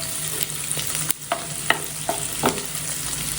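Garlic frying in Amul butter for butter garlic chicken, a soft continuous sizzle broken by a few stirring scrapes and clicks of a spoon in the pan.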